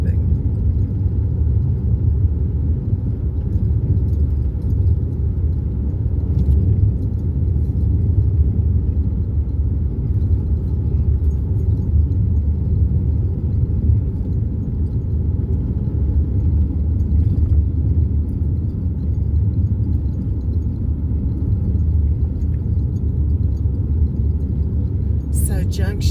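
Inside a car driving on the road between McNary and Springerville, Arizona, a steady low rumble of engine and tyres fills the cabin without a break.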